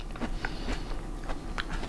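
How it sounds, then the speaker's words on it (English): Fried crunchy dill pickles bitten and chewed close up, giving a quick series of sharp, crisp crunches at an irregular chewing rhythm with no talking. "Hear that crunch."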